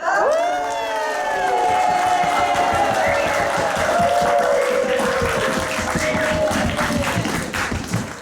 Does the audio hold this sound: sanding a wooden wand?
no